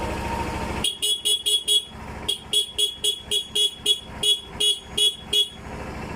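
Horn of a TVS Dazz 110 scooter, tapped in a steady series of about a dozen short, bright toots, close and loud, following a brief stretch of low engine idle.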